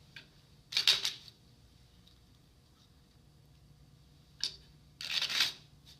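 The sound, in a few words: shuffling a deck of playing cards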